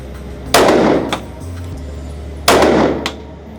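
A Taurus GX2 handgun fires 100 grain Critical Duty rounds. Two sharp, loud shots ring out about two seconds apart, each with a short echoing tail over a low steady background hum.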